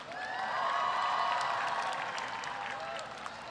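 An audience at a university commencement ceremony applauds, a broad sustained wash of clapping with some cheering and whistles mixed in, swelling early and then slowly fading.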